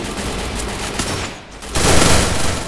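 Gunfire in the Free Fire video game, with dense rapid shots running throughout, a brief dip midway, then a louder sustained burst toward the end.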